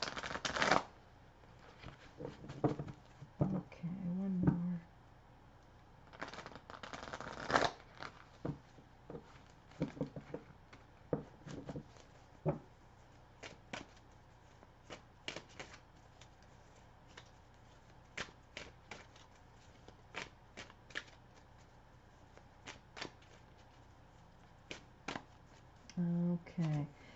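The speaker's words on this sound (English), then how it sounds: "I feel like I have to shuffle these" Tarot cards being shuffled by hand in repeated riffling and patting bursts, close and fairly quiet, with short pauses between and occasional brief speech.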